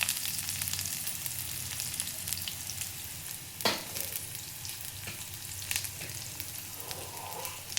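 Onion and green chillies frying in a pan, a soft continuous sizzle with a few sharp spoon scrapes and taps, quiet and close, with no voices.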